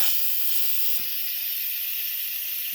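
Instant Pot releasing steam after cooking creamy garlic parmesan, a loud steady high hiss that runs without break, with a faint click near the middle.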